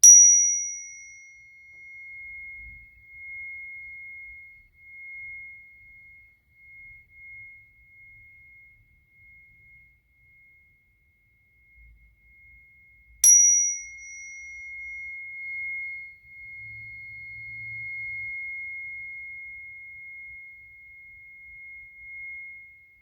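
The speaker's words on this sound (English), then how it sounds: "The chime is something I use to ground myself before meditation and before I speak my affirmations." A meditation chime, used alongside singing bowls in sound healing, rings twice: a clear, pure tone that sustains for many seconds after each strike, struck again about halfway through, in an otherwise quiet room.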